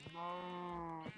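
A Minecraft sheep gives a single drawn-out bleat, clear and steady for about a second, a game sound effect standing alone.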